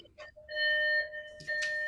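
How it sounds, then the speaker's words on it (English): A driveway alarm chimes with sustained electronic tones, a steady held note followed by a second tone, loud and clear with no talk over it. "that's my driveway alarm"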